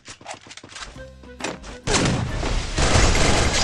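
Gunfire in the battle-royale game Free Fire, a quick series of sharp thumping shots followed by a loud, dense burst of continuous firing, close and prominent.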